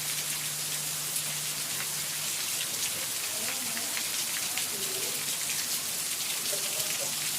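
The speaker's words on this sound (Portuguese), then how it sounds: "Curte a chuva." Steady rain pours down on a nighttime yard in Brazil, a dense continuous patter on surfaces with a low hum underneath and faint voices murmuring in the background.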